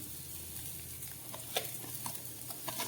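Grated coconut with sugar and jaggery being cooked in a wok as a modak filling, giving a soft steady sizzle with light scraping and stirring clicks, close and alone without talk.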